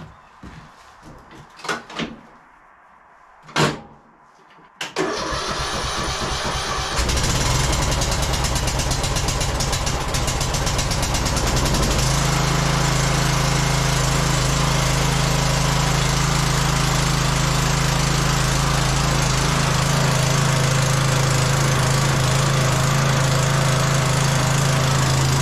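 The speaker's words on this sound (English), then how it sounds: "Let's see if this thing will fire up." Briggs engine on a Troy-Bilt Bronco lawn tractor, one that won't run smooth: some clicks and knocks, then a starter cranks and the engine catches into a loud, steady running drone that settles and holds.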